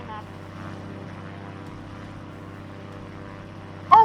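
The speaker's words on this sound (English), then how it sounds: "This plane is loud as heck." A loud, steady engine drone from a stunt plane in the Roblox video game runs throughout at close range, holding an even level, with a brief sharp burst right at the end.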